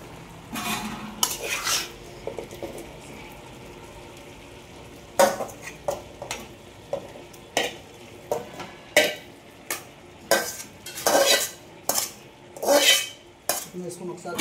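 Half-cooked rice and chicken being stirred in a pot over a low flame, a long series of metallic scrapes and clanks from a spoon against the pot at an uneven rhythm, close, with a faint sizzle underneath.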